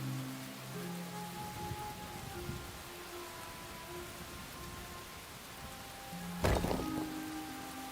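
Steady rain hisses in the survival game Enshrouded, with a constant wash of drops under soft musical tones and a single brief crackling burst near the end.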